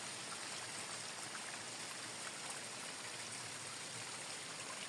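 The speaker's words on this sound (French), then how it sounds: "Une petite cascade là, plein milieu de nulle part." A small waterfall in open countryside along a pilgrimage trail near the Célé river, a steady broadband rush and trickle of falling water that fills the clip evenly and continuously without pause.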